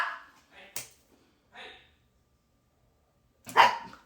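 A pet dog gives a few scattered, fairly faint barks with quiet gaps between them, and a louder final bark near the end. There is some background voice sound.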